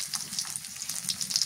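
Whole garam masala spices, including small cardamom, crackle and sizzle in hot soybean oil in a pan, a close, steady frying hiss with scattered pops and no talk.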